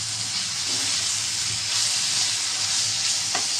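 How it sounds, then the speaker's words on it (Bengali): Ginger and garlic paste sizzles in hot oil with onions in a pan, a steady bright frying hiss with faint stirring scrapes, continuous and close. "পেঁয়াজের সাথে একটু ভেজে নেই আদা রসুনটা"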